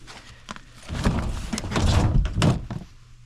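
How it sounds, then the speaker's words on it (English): A metal HVAC unit door panel is handled and shifted, giving several close thunks and clattering knocks with scraping in between, moderately loud, with no talk. "That's just the door panel."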